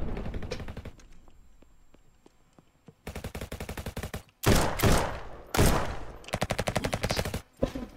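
Bursts of automatic gunfire from the Roblox shooter RF Legacy, loud rapid rattling volleys broken by short pauses, with sharper single blasts and fainter distant shots between them.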